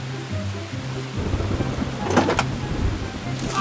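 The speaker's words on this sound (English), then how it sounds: "It's still raining heavily." Heavy rain pours steadily close by, a dense hiss of drops with brief sharp crackles and a low rumble mixed in, and no voices heard.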